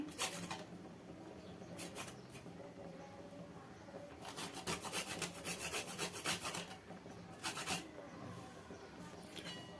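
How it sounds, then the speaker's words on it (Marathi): Nutmeg grated by hand for vermicelli kheer, a steady dry scraping rasp in repeated strokes, close and fairly quiet, with a few brighter bursts of rubbing and no talk. "याच्यामध्ये मी थोडीशी जायफळ किसून घेत आहे."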